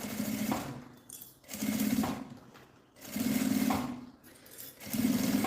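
Sewing machine stitching around a handbag in four separate bursts of rapid whirring, each lasting about a second, separated by short quiet pauses, close and moderately loud, no voices.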